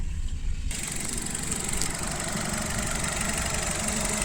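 A 2022 Maruti Suzuki Swift Dzire VXI with a manual gearbox idles steadily, its engine running smooth and even at close range, with no voices over it.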